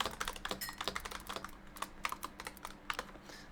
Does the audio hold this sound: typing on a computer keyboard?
yes